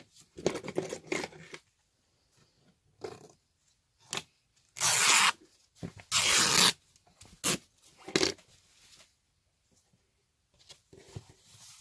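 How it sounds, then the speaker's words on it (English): Fabric torn by hand for a junk journal: a few short, rough ripping bursts stand out amid quieter rustling and handling noises, close and fairly loud. "I'm just going to tear this down because I know I don't need quite that much."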